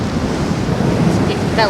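Sea waves roll onto the Odesa shore with a loud, continuous roar and wind buffeting the microphone, while someone briefly speaks near the end.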